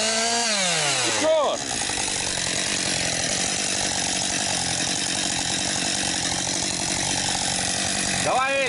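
Chainsaw cutting firewood, running loud and close at high revs almost continuously, with brief throttle changes near the start and end as the engine is revved up.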